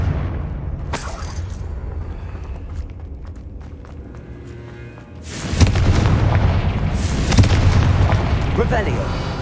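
Fire spell blasts go off in Hogwarts Legacy as loud booming explosions, one short burst early and a bigger sustained blast in the second half, over game ambience with rumbling debris.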